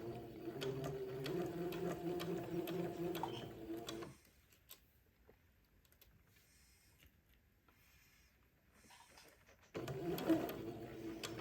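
Sewing machine stitching a bias band around a collar neck opening, a steady close mechanical whir running for several seconds, stopping, then starting again after a quiet pause.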